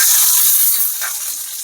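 Shallots frying in hot oil with popped mustard seeds give a loud, dense, steady hiss that eases slightly partway through, close up with no voices.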